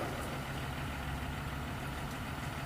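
A FedEx delivery truck idles nearby outdoors at a house, its steady low engine rumble running unbroken and fairly loud from start to finish with no talk over it.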